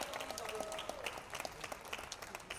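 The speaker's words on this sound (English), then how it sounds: "A big round of applause." An audience at a makeup launch event breaks into dense, continuous applause, many hands clapping at once in a steady wash of sound.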